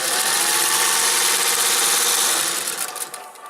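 A sewing machine stitching a small seam on an apron, a fast steady close whirr that runs evenly and then slows and fades out as the stitching stops.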